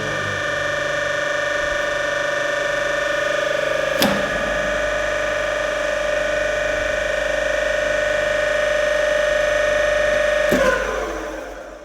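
Steady electrical hum with a strong tonal whine from a DC compound generator after it is switched on, running evenly and close, with sharp clicks near the start and end.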